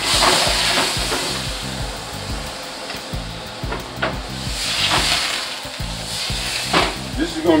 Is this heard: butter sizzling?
yes